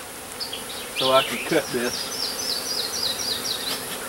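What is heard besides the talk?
honey bees buzzing around an opened hive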